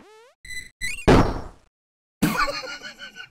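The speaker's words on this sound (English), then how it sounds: "I'm closing that door on him as well" A door swinging shut in RuneScape, a short whooshing thud with a brief clatter after, set between brief game sound effects and a later burst of chiming game noise, with no talking.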